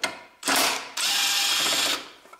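A power ratchet or impact tool runs on engine bolts of a 2002–2009 Toyota Prius with its 1.5 engine, two loud bursts of whirring mechanical buzz, a short one and then a longer sustained one, close up with no talking.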